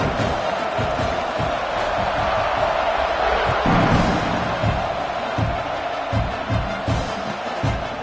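Stadium crowd at a college football game between Georgia and Oklahoma, roaring steadily before kickoff with sustained cheers, whoops and shouts that swell into a broad wash of noise, heard from within the stands.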